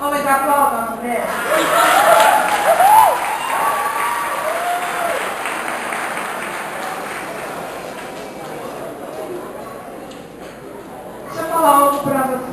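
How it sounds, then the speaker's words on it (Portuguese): A church congregation applauding for a woman, a sustained burst of clapping that swells and then thins out, with voices and some chatter mixed in. "homens, aplaudam a mulher"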